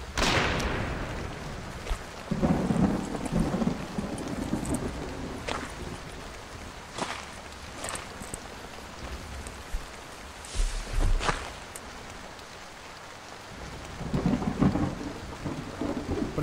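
Rain and rolling thunder in the horror video game Portrait of a Torn, a steady wash of rainfall with several low thunder rumbles and cracks rising and fading across the scene, no talk.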